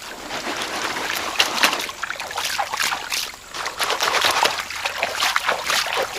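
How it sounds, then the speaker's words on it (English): Gold-bearing material on a quarter-inch screen is submerged and shaken in stream water, producing continuous close sloshing, splashing and trickling with a busy, uneven rhythm. "We're going to submerge it in water."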